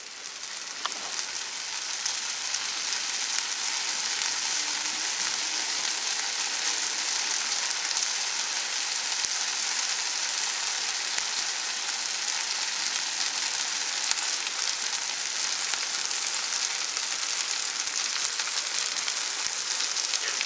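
An egg and cheese sandwich frying in butter in a pan, giving a steady, close, continuous sizzle and hiss that holds evenly throughout with no talking.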